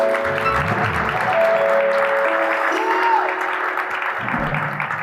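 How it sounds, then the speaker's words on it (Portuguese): An audience at a São Paulo talk breaks into a round of applause, dense clapping lasting about five seconds with faint music tones beneath. "Eu quero mandar uma salva de palmas"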